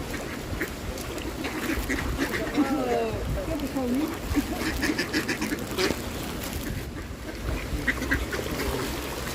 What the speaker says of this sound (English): He wants that bit that duck's got.